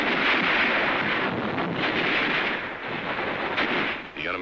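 Battle at Tarawa in 1944, with a dense, continuous roar of rifle fire, mortars and flamethrowers, rough and noisy like an old field recording, without distinct separate shots.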